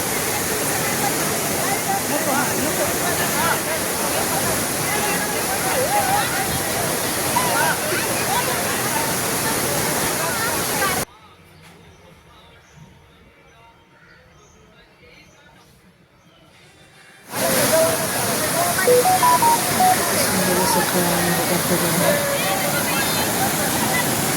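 Strong, heavy flow of a waterfall roars loud and steady, a broad wash of water noise that cuts to near silence for several seconds before returning at full strength.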